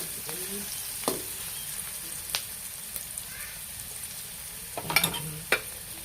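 Ingredients fry in a pan for menudo, a steady low sizzle with a few scattered clinks and stirring scrapes, heard up close with no talk.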